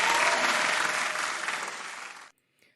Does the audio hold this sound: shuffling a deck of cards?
no